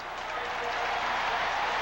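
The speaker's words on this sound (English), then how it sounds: "This big crowd likes what they see." A big football stadium crowd at a 1983 Dolphins–Saints game roars in a steady wall of cheering and applause, broad and sustained, heard beneath a broadcast announcer's voice.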